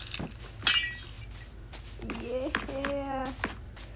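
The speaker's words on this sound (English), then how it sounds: "I love breaking glass." Glass breaks in Minecraft with a sharp, bright clink and shatter, followed by further short tinkling game sounds, while children's voices chatter throughout.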